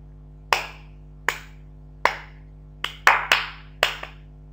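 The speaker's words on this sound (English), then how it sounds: "Now I'm making one more sound with my clapping." Single hand claps in a quiet classroom demonstration, about seven sharp claps in an uneven rhythm, the last few closer together, close and clear over a low steady hum.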